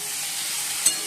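Potatoes frying in a spiced curry give off a steady, hissing sizzle with one small pop near the end.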